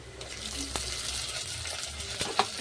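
Mustard seeds, cumin, curry leaves, onion and tomato frying in a pan, a steady low sizzle with occasional clinks of a stirring spoon, moderately quiet and continuous.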